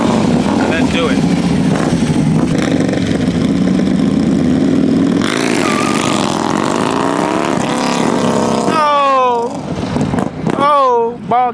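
Harley-Davidson Road King and Road Glide ST motorcycles, a 117 and a 110, race at a Houston motorcycle meet; loud V-twin engines roar and rev with rising pitch sweeps near the end, while a crowd talks and shouts throughout.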